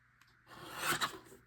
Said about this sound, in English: this one is going to be a little bit harder to cut because it's kind of a big picture